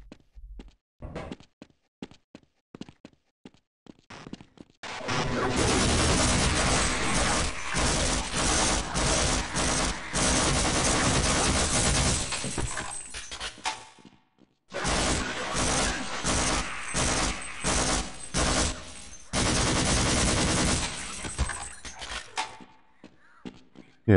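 Bursts of gunfire and grenade blasts from the Half-Life 1 MMOD video game, loud and dense, forming two long sustained stretches of shooting broken by a short pause.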